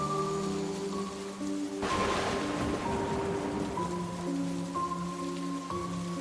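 Steady rain falls on surfaces at a dark old house in a cartoon horror story, a constant wash under music tones, with a louder burst of rain or thunder around two seconds in.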